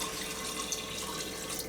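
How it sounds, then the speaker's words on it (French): Vegetable broth pouring into a pan in a short, steady liquid splash, close and moderately quiet, with no talk. "On va ajouter du bouillon, donc 25 centilitres de bouillon."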